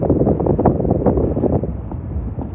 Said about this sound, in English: It's awful windy and breezy.